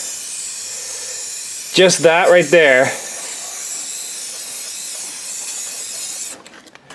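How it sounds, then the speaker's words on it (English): A steady hiss of red spray paint on an engine block runs through the clip, with a brief spoken remark partway through, then the spraying stops near the end. "spray painting the block red."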